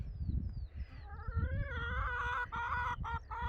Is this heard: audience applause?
no